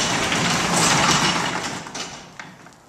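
A residential garage door rolls along its track during a balance test, a steady broadband rumble and rattle that fades over the last second, ending with a small clunk.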